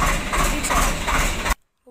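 A tractor engine runs with a loud, steady, rough low rumble that cuts off abruptly near the end, leaving near silence.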